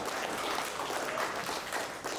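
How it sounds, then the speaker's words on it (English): A bootcamp group claps together in a dense, steady round of applause right after a timed exercise hold, loud and close, with the scattered claps blending into a continuous wash. "Let's give a round of applause."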